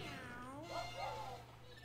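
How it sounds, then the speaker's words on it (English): A cat character meows in Super Mario 3D World gameplay, a short, faint, rising-and-falling mew over a soft steady game hum, with no talking during it. "He's meowing"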